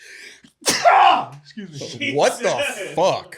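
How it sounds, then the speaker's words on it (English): A loud sneeze bursts out close to the microphone, followed by someone talking. "It's my sneezes."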